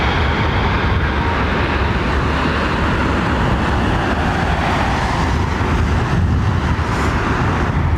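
An American Airlines airliner in legacy livery at London Heathrow Airport gives a steady, loud broadband engine roar that holds for the whole stretch. The roar has a low rumble under it and no voices.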